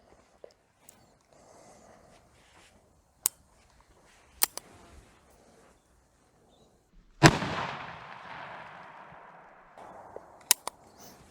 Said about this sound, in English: we're going to shoot the 410 barrel first, which is the top one in this case